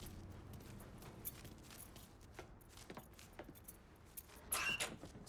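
Keys jangle briefly in the Mafia 3 video game as they are picked up, a short metallic rattle near the end over a quiet background of faint ambient thuds.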